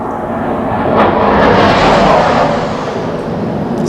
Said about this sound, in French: Ça arrête pas les avions de chasse, c'est des ouf.